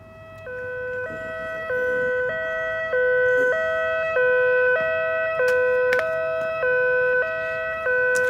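An ambulance siren in an animated movie wails in a loud, steady two-tone pattern that alternates evenly throughout, with faint background bangs.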